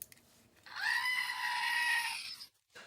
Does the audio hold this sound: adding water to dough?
no